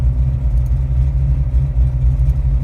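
A warming 408 Cleveland V8 idles in a car during cold-start tuning, a loud, steady low rumble that holds an even pulse throughout with no talking.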